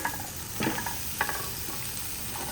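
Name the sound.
ridge gourds added to the pan, frying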